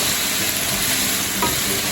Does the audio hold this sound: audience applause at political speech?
no